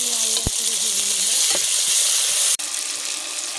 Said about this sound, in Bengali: পেঁয়াজ আমি লাল লাল করে ভেজে নেব